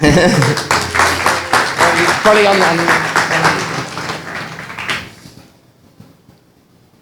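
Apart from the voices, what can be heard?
audience applause welcoming speaker to stage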